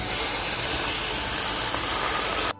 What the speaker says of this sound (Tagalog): iluto na po natin ang na-marinate na chicken